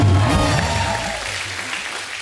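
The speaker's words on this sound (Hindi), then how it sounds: "जोरदार तालियां।" Loud applause from the studio audience at The Kapil Sharma Show, a dense wash of clapping that starts strong and slowly fades over about two seconds, with no talk over it.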